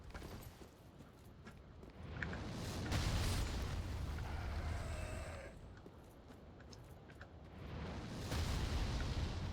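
Bomb blasts in Dark Souls 3 come through as a pair of dull, muffled booms a few seconds apart, each with a rumbling tail, over quiet background noise in the game.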